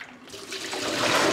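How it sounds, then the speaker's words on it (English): Rinse water is tipped out of a freshly washed container used for making Chinese rice wine, a short gurgling gush that swells louder as the pour goes on, with no talking. "Okay, so now I'll just tip it all out."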